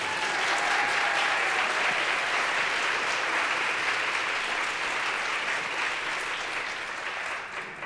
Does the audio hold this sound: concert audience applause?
yes